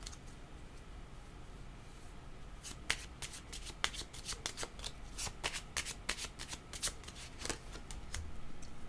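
Tarot cards are shuffled in a steady run of crisp riffling flicks, close and fairly quiet, with no talking over them.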